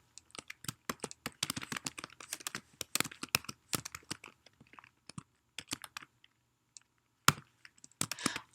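Close computer keyboard typing HTML tags, irregular bursts of crisp individual keystrokes with gaps and a few sharper louder taps, quiet background, nobody speaking.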